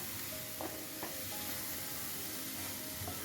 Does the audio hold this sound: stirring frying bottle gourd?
yes